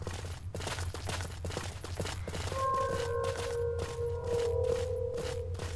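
Stalker Call of Pripyat characters trading gunfire, with rapid bursts of shots in quick rhythmic volleys over a low hum and a steady tonal beeping partway through.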